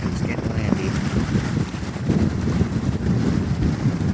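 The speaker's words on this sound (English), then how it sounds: "It's getting windy." Wind blows steadily at the entrance to Newport Bay harbor, a constant rough rumble that buffets the microphone and holds at a dense, even level throughout.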